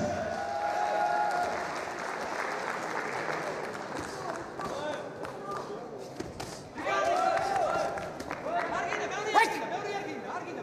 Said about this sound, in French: Un peu plus les encouragements et les applaudissements